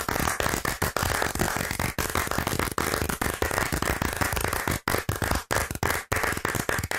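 A dense round of applause built by layering one person's hand claps and compressing them, sounding like a crowd clapping continuously and loudly for about seven seconds with brief dips.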